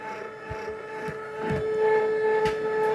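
A Cricut Expression cutting machine with a wire broken loose inside runs with a steady tonal hum, broken by irregular knocks and thumps as the carriage hits its side; no talking.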